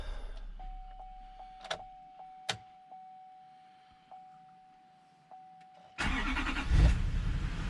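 A Duramax diesel truck sits quietly with a faint steady tone and scattered clicks after a battery replacement, then the engine catches with a sudden loud rumble near the end.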